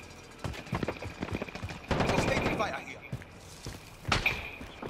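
Gunfire in Call of Duty Warzone: bursts of rapid shots crackle in short clusters, mixed with footsteps and impacts, while a player talks over the action.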